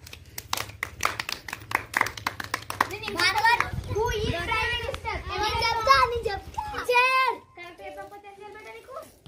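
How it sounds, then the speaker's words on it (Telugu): A classroom of children claps together for a student, a burst of fast, loose applause with excited kids' voices chattering over and after it. "దీనికి క్లాస్ కొట్టండి అందరూ."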